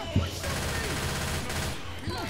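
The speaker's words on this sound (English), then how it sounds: "Can you stop shooting me?" Gunfire in Left 4 Dead during a versus match, a dense crackle of rapid shots sustained across the moment with a few heavier thumps, mixed under faint in-game voices.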